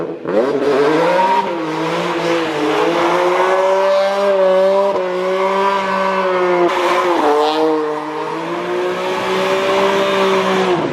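A BMW E46 M3 spins donuts, its engine droning loud and steady with rising and falling revs and a continuous tire squeal running through, heard up close with no talking.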